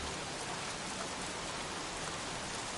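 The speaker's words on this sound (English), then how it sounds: "Goddamn rain. Soaking wet." Rain in the game Heavy Rain falls in a constant heavy downpour, its loud, uniform wash of spattering drops filling the whole moment without speech.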